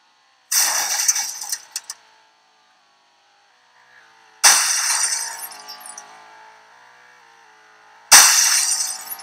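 In a video game, a car crashes into a building three times a few seconds apart. Each impact is a loud, sharp shattering crash with breaking glass that rattles and tinkles away.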